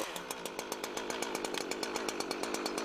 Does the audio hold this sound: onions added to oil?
no